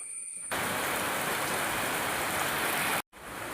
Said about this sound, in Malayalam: മഴയൊന്ന് കുറയട്ടെ എന്നിട്ട് പോവാം